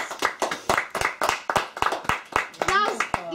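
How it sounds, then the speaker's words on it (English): Small audience at a children's summer reading magic show clapping for two volunteers. The claps are sparse and individual rather than a full ovation, with a voice breaking in near the end. "Let's give them a big round of applause."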